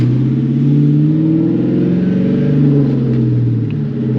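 A New Edge Mustang GT with a catless X pipe and boreless stingers revs lightly, its deep, throaty exhaust burbling loud and close in a steady, sustained drone with slight rises in pitch.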